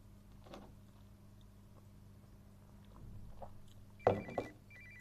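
A mobile phone starts ringing near the end of a quiet indoor stretch, with a brief, bright burst of ringtone after several seconds of low room noise.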